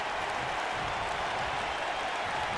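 A wrestling crowd at an AWL Supercard New Year's Tournament quarter-final cheers and applauds in a steady, dense roar that fills the whole moment without a break.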